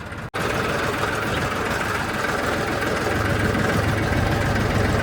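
A tractor engine idles nearby with a steady, loud, chugging drone that barely changes throughout.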